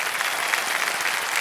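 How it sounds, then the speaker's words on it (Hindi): Studio audience on a TV quiz game show claps in a brief, dense burst of applause, steady and close throughout. "तालियों के साथ आपका एक बार फिर स्वागत करते हैं।"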